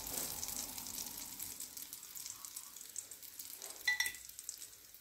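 Bread slices dipped in sauce hiss and crackle in hot oil in a frying pan, a steady close sizzle with a few sharper pops near the end and no talking.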